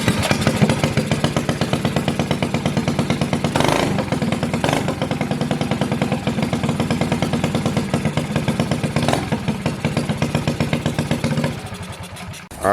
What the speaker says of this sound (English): So we're gonna turn the idle up as much as we can.